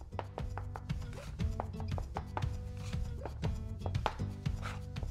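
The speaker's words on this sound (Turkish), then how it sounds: "Şimdi çok az su ekliyorum. Karıştırmaya devam ediyorum." Fresh egg noodle dough being mixed by hand with a little water added, a run of close, rapid soft slaps and squishes in an irregular rhythm, fairly quiet with no voices.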